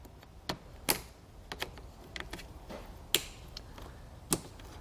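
A plastic trim tool pries plastic push fasteners out of the lower air dam on a 2017 Buick, producing a few sharp isolated clicks and pops spaced apart over quiet background.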